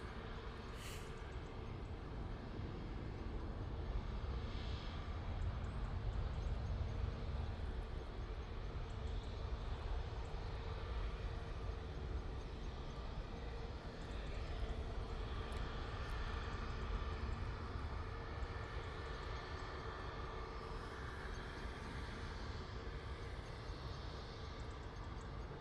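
Steady, loud engine and air roar fills the cabin of an airliner landing at Manchester after a short flight from Dublin, a continuous rumble with no talking.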